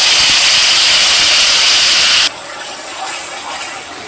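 Mashed spice paste hits hot oil with kalo jeere, green chillies and sugar for a hilsa fish curry. A loud, dense hiss cuts to a much quieter sizzle about halfway through.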